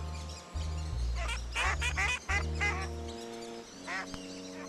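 A duck quacks repeatedly in raspy bursts, close up, over a sustained low musical drone.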